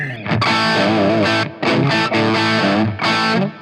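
A cranked electric guitar amp driven into crunchy power-amp distortion, loud thick chords ringing out in bursts with short gaps between them, no talking.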